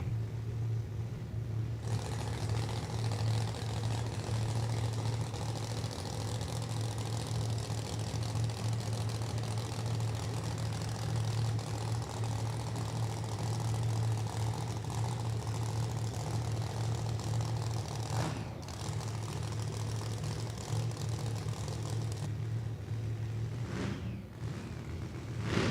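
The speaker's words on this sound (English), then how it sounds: "Phil cleared the pipes out on it. Gets ready to bring the RPMs up." A race car engine sits idling at a late-model dirt track, a steady low rumble holding through the stretch with little change, a brief dip near the end before it builds again.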